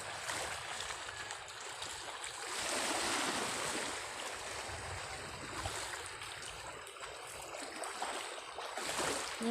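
Rough sea churns with a constant broad roar ahead of an approaching typhoon, waves surging and washing in steadily, wind adding to the noise.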